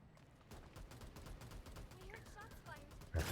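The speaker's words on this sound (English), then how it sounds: "those people are blasting those heavy rifles" Heavy rifles blast in the mecha battle game Super Mecha Champions as a faint, rapid string of gunfire bursts, with a brief louder hit at the end and some low talk underneath.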